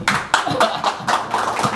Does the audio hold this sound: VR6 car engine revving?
no